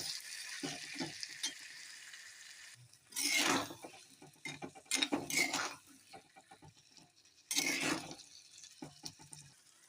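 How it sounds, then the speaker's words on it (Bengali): Potatoes fry with spices in a pan, a soft, steady sizzle with repeated scraping and stirring strokes, and three louder bursts of hissing as the spices and potatoes are tossed, fairly quiet and close. "এই যে মশলা দিয়ে আলুর সাথে আলুটাকে ভালো করে ভেজে নিচ্ছি।"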